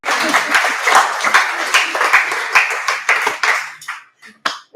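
An audience at a school symposium claps loudly and steadily, a dense burst of many hands that thins out near the end into a few scattered claps.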